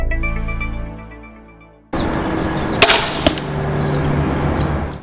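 A brief tonal musical bit fades out, then a broadband rush with a sharp crack near the middle and a second smack soon after: a 125-grain broadhead arrow from a Ravin crossbow released and striking.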